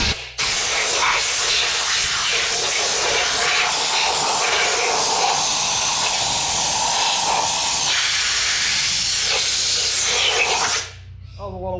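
Compressed air blasting out the head bolt holes of an RB25 engine, a loud continuous hiss with sputtering spray of water, lasting about ten seconds before cutting off abruptly.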